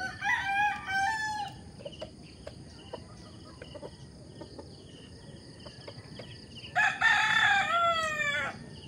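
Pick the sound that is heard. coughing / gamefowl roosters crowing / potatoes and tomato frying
gamefowl roosters crowing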